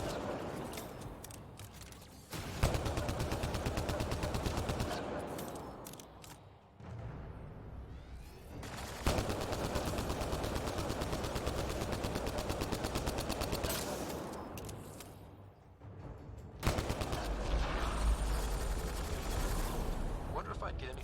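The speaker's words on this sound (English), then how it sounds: "Oh, it's a turret." A video game turret fires in long sustained bursts, a dense loud roar of rapid gunfire broken by brief pauses, with a voice talking over it.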